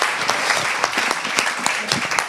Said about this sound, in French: on peut vous applaudir encore une fois